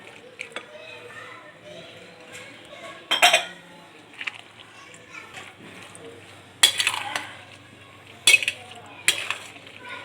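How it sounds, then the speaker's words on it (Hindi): Russian salad of chopped apple and boiled potatoes being stirred together in a bowl, with soft scraping and a few sharp clinks of a spoon against the dish, near and fairly quiet, while someone talks throughout. "देखें मिक्स हो रहा है, ज़रा इसको अच्छी तरह मिक्स करना है।"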